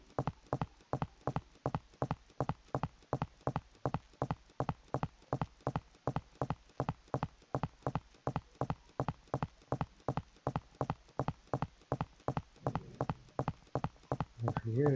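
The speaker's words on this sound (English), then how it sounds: "now let's get closer to the player and listen to the player footsteps as well." Player footsteps in a Unity 3D shooter, a long run of steady, evenly spaced thuds close and clear for the whole stretch, with a brief burst of other game noise near the end.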